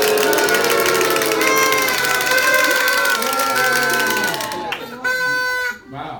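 A Purim audience erupts in a loud, continuous din of noisemakers and shouting, dense and sustained, before breaking off abruptly near the end with a few scattered bursts.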